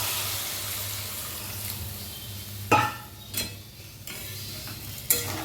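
Water poured into a pan of spice masala that has been frying in oil, with a low bubbling simmer broken by a few sharp splashes and clinks of a utensil, and no voices.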